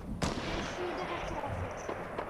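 Gunfire during a squad firefight in a battle royale shooter game, a sharp shot burst near the start followed by scattered quieter pops, with game ambience and voices talking over it.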